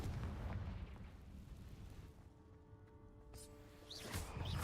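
A Confringo fire spell bursts in a cave in the video game Hogwarts Legacy, a rumbling blast that fades into a lingering hum and then swells again with a second boom near the end.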